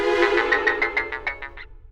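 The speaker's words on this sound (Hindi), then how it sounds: "खतरू का भी फोन आ गया" A phone ringtone rings in a home setting, a repeating electronic melody of about nine quick pulses over two seconds, clear and close with no talk over it.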